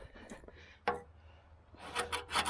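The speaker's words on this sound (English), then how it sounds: "where it's blistered it up, you just go to town with your scraper here" Scraping blistered paint off a mower deck with a hand scraper, several short, close, rasping strokes that grow louder and denser toward the end, with no voice.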